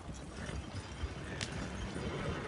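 Horse hooves clip-clopping as a wagon rolls along in a Western video game, a soft, steady rhythmic patter under low ambient noise.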